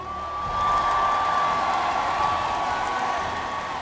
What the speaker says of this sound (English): may we please a warm round of applause for Daewoo,